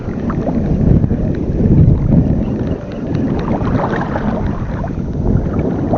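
Rough, choppy sea slaps and churns around a small fishing boat, with steady broadband wash and gusty wind noise filling the scene, loud and continuous throughout.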